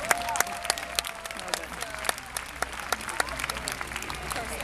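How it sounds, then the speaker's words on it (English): Crowd applause outdoors at an RCMP Sunset Ceremony honouring a search and rescue dog association, steady and moderate throughout, with distinct individual claps popping over the wash and some voices underneath. "A big round of applause as well for our friends from the Ottawa Valley Search and Rescue Dog Association"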